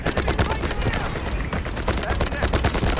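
Rapid, sustained M250 machine gun fire from the video game Delta Force rattles without pause in dense, loud bursts that overlap.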